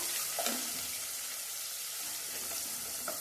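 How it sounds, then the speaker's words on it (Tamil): Onion with green chilli and curry leaves sautéing in a pan gives a steady, close sizzle and crackle with a few sharper pops, heard alone without talk. "சேர்த்துட்டு இந்த வெங்காயம் நல்லா வதங்கட்டும்"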